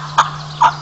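Wild turkeys in spring, a two-year-old gobbler running with jakes alongside hens, give two short, bright calls a beat apart over a steady low hum.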